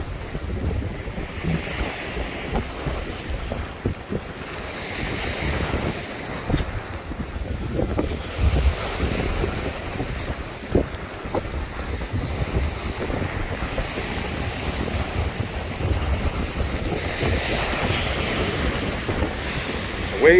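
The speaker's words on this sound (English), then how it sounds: "Waves are hitting up here every so often." Waves on the Lake Erie shore wash and break steadily while strong wind buffets the microphone, a dense continuous roar with occasional louder surges.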